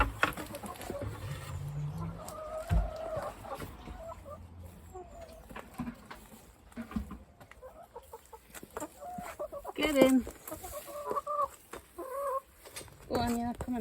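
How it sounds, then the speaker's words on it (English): Hens cluck and murmur around a hen house in the morning, with scattered soft calls and a few louder squawks near and far, and a person speaking quietly among them. "all the hens are out of the hen house now"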